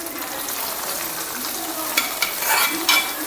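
Sesame seeds crackle in a hot pan for jackfruit payasam as a soft steady sizzle with a few sharper pops and stirring scrapes near the end, close by and with no speech.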